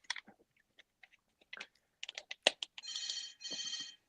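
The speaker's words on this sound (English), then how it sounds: "What is that, an office phone in the background?" An office-style telephone rings in the background, two bright electronic trills in quick succession at a moderate distance, after a stretch of scattered clicks and small mouth-like sounds.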